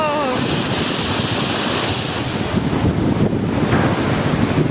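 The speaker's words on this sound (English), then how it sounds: "See the water." Rushing water in Aru Valley, Kashmir, a loud continuous roar with strong wind buffeting the microphone, steady from start to finish.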